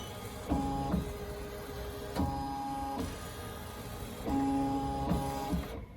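A Ricoma EM1010 embroidery machine traces the outline of a design, giving off a steady mechanical whir broken by short bursts of louder motor movement, heard close up with no one speaking.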